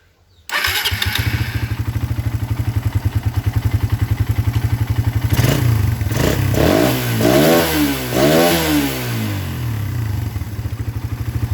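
A motorcycle with a stock PE carburetor starts up and settles into a steady, close, rapid idle. Midway it is revved in a few rising and falling bursts before dropping back to idle.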